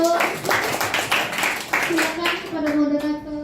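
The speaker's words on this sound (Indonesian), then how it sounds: "tepuk tangannya dong." An audience at an Indonesian teachers' presentation claps steadily by hand in a quick, even rhythm, while a voice talks over the applause toward the end.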